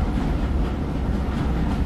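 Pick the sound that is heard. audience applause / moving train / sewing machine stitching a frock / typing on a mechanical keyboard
moving train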